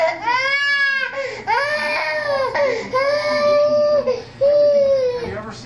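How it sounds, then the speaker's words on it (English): A toddler in the middle of a tantrum cries and screams up close, wailing in several long rising and falling bursts with brief catches of breath in between. "as you guys can hear, she's throwing a tantrum as we speak"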